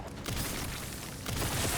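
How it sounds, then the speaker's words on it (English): Explosion in the video game Resident Evil Requiem, a dense, sustained roar of blast noise and debris lasting the whole short stretch, loud and close, with a fresh surge near the end and no voices. "That explosion generates those particles, and the GPU doesn't care."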